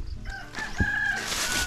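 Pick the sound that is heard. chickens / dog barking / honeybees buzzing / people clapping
chickens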